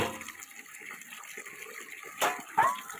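Tap water runs at a steady low level while dishes are washed in a home kitchen, with a couple of brief louder splashes or clinks near the end.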